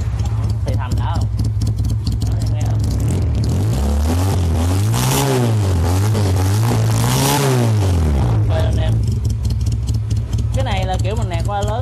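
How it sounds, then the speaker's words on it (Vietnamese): A cheap used motorcycle idles with a steady low exhaust note, then is revved in a series of rising and falling swells before dropping back to idle, heard close up beneath someone talking. "rồi anh em nghe bô nè"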